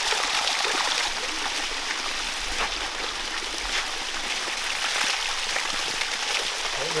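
Water trickles and ruffles steadily through a canyon stream in the Hérault countryside after a wet spring, a continuous close hiss with no talk.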